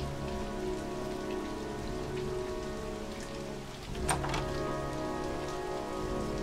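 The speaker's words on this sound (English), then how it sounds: "Why is he just standing in the rain like that?" Steady rain falling in the video game Heavy Rain, a dense even patter on surfaces that continues throughout, with a brief sharper splash or rumble just past the midpoint.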